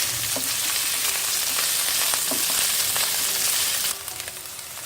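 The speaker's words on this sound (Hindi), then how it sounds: "हल्का गुलाबी होने तक भूनेंगे" Onions frying over a high gas flame, a close, steady sizzle with light stirring scrapes, dropping in loudness just before the end.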